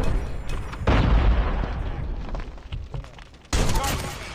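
Heavy gunfire and booming blasts in a Call of Duty Mobile match, loud and close, with a sharp burst at the start and another near the end, mixed with voices.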